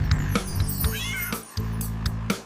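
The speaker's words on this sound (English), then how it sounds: "C for cat." A cartoon cat meows several times in quick succession, close and clear, with a bright, wavering cry over a steady musical backing.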